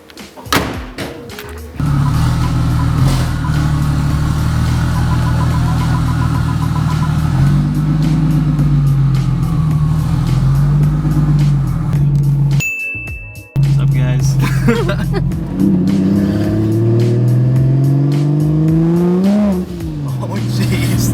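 A single turbo BMW 135i drives and accelerates, its engine droning loud and close from inside the car with rising and falling revs and a brief break partway through, while people talk over it.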